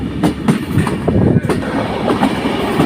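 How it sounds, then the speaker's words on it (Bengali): A train rumbles past nearby on the Hardinge Bridge in Kushtia, Bangladesh, loud and steady, with rhythmic clickety-clack of wheels over the rails. "এইমাত্র ট্রেন"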